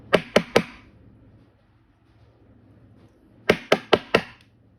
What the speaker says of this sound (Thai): แต่กิ่งไม่ดังนะครับเนี่ยเดี๋ยวผมจะลองเคาะดูนะครับ เผื่อดังนะครับ